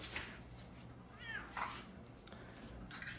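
On a ranch, cats let out a couple of short, quiet meows over a soft outdoor background, with a faint hint of voices nearby.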